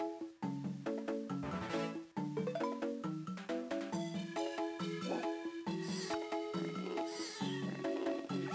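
Baby leopard meowing in The Wild Thornberrys Movie game for Game Boy Advance: repeated short chiptune-style meows mixed into steady, loud game music throughout.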